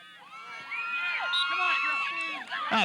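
Spectators at a 1990 girls' field hockey game, West vs. East at High School East, cheer and shout their team on in a steady crowd roar, with children's high calls rising over it and a commentator talking throughout.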